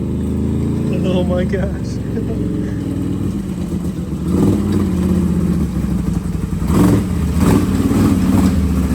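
A homemade RC monster ATV drives with a buzzing engine that revs and surges under a steady rattling clatter, close and loud, while a person speaks briefly over it.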